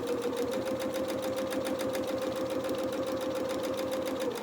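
A sewing machine runs steadily while stitching along a fabric skirt edge, its fast rhythmic needle chatter and motor hum continuous and close, with no voices.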